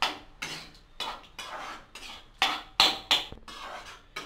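Cooked rice being mixed for coconut rice in a pan, with a spoon scraping and clinking against the metal in repeated strokes, close and fairly loud, several sharper knocks near the end.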